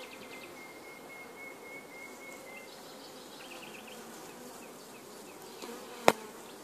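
Honeybees hum steadily around an artificial swarm hive, a soft continuous buzz close by with occasional higher whining passes, ending in a single sharp knock.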